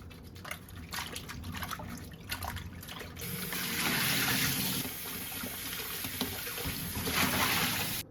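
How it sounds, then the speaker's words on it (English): Fish being washed with lemon or lime and vinegar under running water, with dripping and splashing at first, then a steady rush of tap water flowing over it, close and fairly loud, no talking. "we're gonna get this washed up"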